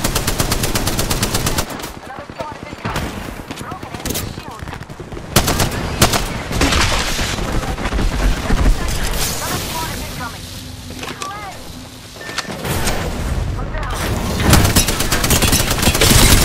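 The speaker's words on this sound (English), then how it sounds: "I'm taking fire." Heavy automatic gunfire in the battle royale shooter Apex Legends, long loud sustained bursts with short gaps between volleys, close and dominant, with in-game voice lines faintly underneath.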